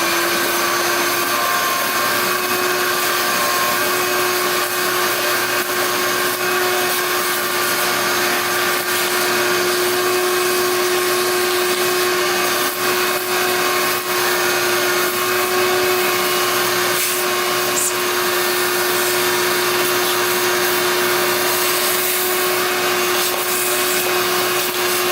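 A vacuum cleaner runs continuously at close range, cleaning out the mouse-infested engine of a locked-up Kawasaki dirt bike, with a loud, steady whining drone and no talk.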